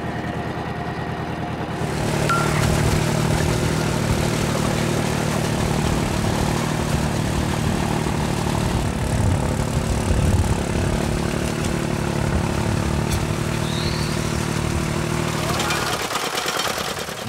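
A vehicle engine runs steadily after a shift into second gear on a road in Vietnam, with a droning, propeller-like hum that holds at an even level for most of the stretch before cutting off near the end.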